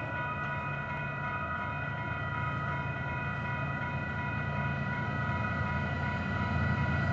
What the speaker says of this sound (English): we got a train coming southbound for UP Intermodal.